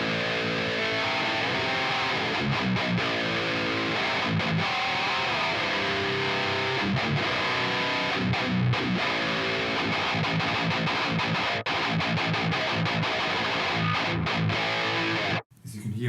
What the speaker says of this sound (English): Mesa Boogie Triple Crown